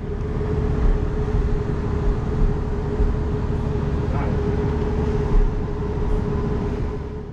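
Transport for Wales diesel railcar running on the Heart of Wales line, a loud continuous engine drone with a steady low hum and rumbling rolling noise throughout, with occasional soft bumps.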